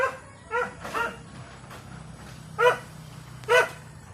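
A dog gives four short whimpering yips spaced irregularly over a low steady background hum, fairly close and moderately loud.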